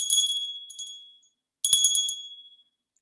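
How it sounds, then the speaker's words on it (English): A small hand bell rung during a Sunday church service, two bright metallic strikes with ringing high overtones, the first decaying before the second sounds alone and clear. "I ring the bell twice for those who are gathered here today."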